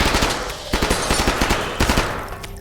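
Rapid automatic gunfire in a video game bursts out loud and dense, crackling in fast repeated volleys that nearly fill the stretch without pause.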